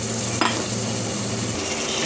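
Biryani masala of curd and chopped coriander frying in oil in a pan, a steady close sizzle with one brief scrape of stirring.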